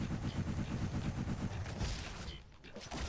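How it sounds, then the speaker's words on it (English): A Gatling grenade launcher in the shooter game Roboquest fires a rapid, continuous stream of thumping explosive shots, loud and close, then tails off briefly. "It's a damn Gatling grenade launcher."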